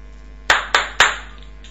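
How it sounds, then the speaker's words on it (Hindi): Three sharp, loud hand claps in quick succession, close by, used to trigger a clap-to-find phone feature, with a brief pause before the third and faint ringing afterward. "मैं 3 बार क्लैप करूंगा। 3 बार तालियां जैसे ही बजाऊंगा"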